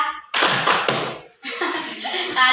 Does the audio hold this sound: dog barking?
no